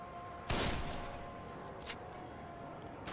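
A single sharp gunshot cracks loudly in The Evil Within, followed by a fading tail and a couple of fainter knocks and metallic ticks against a low ambient hum.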